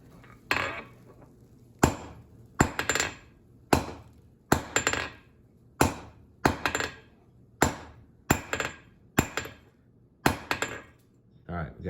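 A hammer strikes a steel round punch on an anvil at a forge, about a dozen loud ringing blows in an even, unhurried rhythm, each followed by a brief metallic decay.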